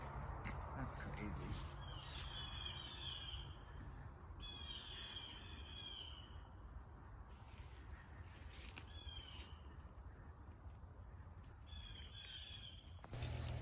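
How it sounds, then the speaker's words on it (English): Repeated bird chirps and calls in woods ring out in short bursts over steady outdoor ambience, moderately distant, with a few louder squawks. "I love hearing all of the birds chirping"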